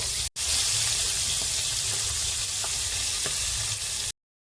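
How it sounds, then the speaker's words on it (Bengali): Tengra fish fries in mustard oil in a pan, giving a loud, close, continuous sizzle with a dense hiss throughout. It breaks off briefly near the start and cuts out at the end. "এবার সর্ষের তেল ঢেলে দিলাম এবার মাছটা ভাজা করব"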